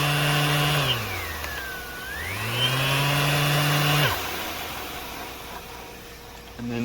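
A MAXXT 350W brushless random orbital sander whirs up, its motor pitch dipping then climbing to a steady high whine before cutting off abruptly, close and loud.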